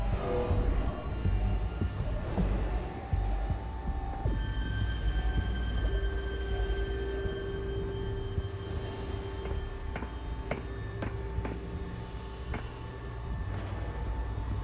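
A moving train car in the video game Batman: The Telltale Series gives off a continuous low rumble and rattle of wheels on rails, with squealing tones and clanks rising over it partway through.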